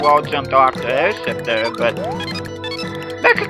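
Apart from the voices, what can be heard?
None of the usual background noises is heard.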